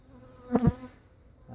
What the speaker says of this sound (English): I can pull it down and see the bees coming out periodically